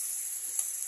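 Onion sizzles as it sautés in a pan with garlic, a steady, close, bright hiss that runs briefly on its own.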